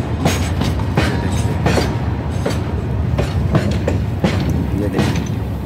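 A railway locomotive hauling a long string of wagons rolls past close by, a heavy steady rumble broken by rhythmic clickety-clack from the wheels over rail joints.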